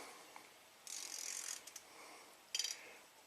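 A throttle stop screw on a 1985 Oldsmobile being turned with a small Torx bit, heard as two short, quiet bursts of close ratcheting clicks separated by a pause.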